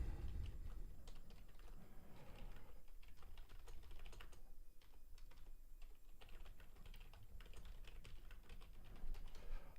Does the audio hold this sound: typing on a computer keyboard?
yes